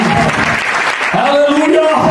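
A church congregation applauds loudly during an Easter service, steady dense clapping with voices mixed in and a sung or called tone running through it.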